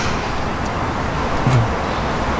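A lowered Chevrolet Tahoe SEMA build rolls past on its first test drive, a steady broadband road and engine rumble with a brief swell as it nears, heard from the roadside.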